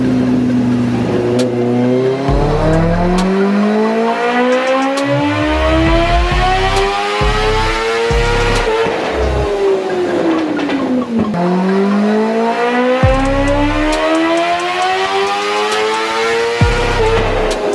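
An engine run hard on a dyno with its DB killer silencer removed, loud and close, climbing steadily in pitch through a long full-throttle pull, dropping back, then sweeping up again on a second run.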